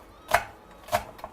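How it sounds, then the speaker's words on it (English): Two crisp knife chops through chilies on a cutting board for a vegan tofu noodle stir fry, spaced about half a second apart, close and clear, followed by a fainter third tap. "And then I also chop the chilies,"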